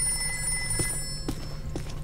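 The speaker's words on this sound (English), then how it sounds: "Hang on, we have a phone call." A telephone rings faintly in Ghostbusters: The Video Game Remastered, a repeating electronic bell tone with soft periodic pulses behind a steady low background hum.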